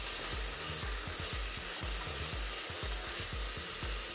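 Chopped onion and tomato sizzle in hot oil in a pan for a black chana curry, with a steady frying hiss and repeated scraping stirs of a spoon at an even rhythm.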